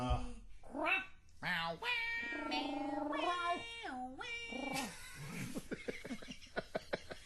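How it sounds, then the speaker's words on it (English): A cat meows several times close up, drawn-out and wavering, followed by a series of short sharp clicks or taps. "we will explain a cat just walked in the room"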